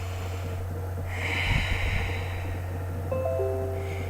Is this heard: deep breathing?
yes